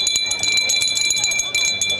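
Bells ring with bright, sustained metallic tones over a noisy, bustling crowd at the Vela de la Fuensanta festival in Andalusia, the clanging steady throughout.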